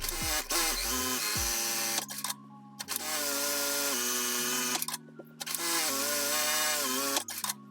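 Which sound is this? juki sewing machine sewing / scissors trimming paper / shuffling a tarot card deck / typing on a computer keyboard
juki sewing machine sewing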